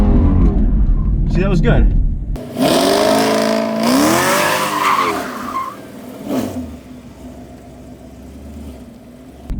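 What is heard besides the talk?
car accelerating and spinning doing donuts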